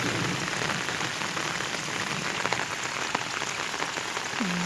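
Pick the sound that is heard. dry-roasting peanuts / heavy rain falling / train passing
heavy rain falling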